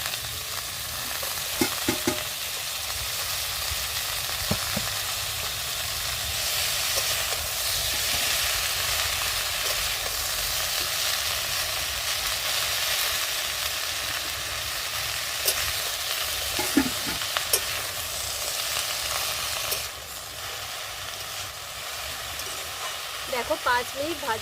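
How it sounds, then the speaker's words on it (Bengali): Chopped pumpkin leaves and stems frying in a pan with cooked ridge gourd, a steady broad sizzle and hiss running throughout, broken by occasional scraping stirs of a spatula and faint speech in the background. "এবার যে শাকগুলো কেটে রেখেছিলাম শাকগুলোও একটু ভেজে নেব।"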